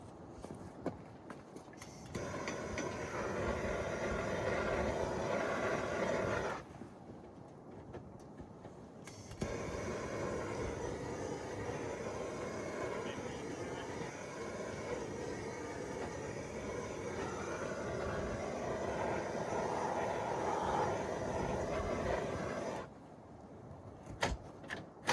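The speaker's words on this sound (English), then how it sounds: "I'm gonna have to use the torch to melt that ice." A torch melting ice on the throttle of a turbo diesel snow blower gives a steady, close roaring hiss in two long stretches, cutting off between them and again near the end, with no talking.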